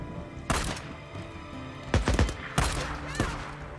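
Gunshots from the video game Days Gone, several sharp bursts: one shot, then a quick cluster of rapid shots, followed by two more spaced cracks, fairly close and loud with no talking.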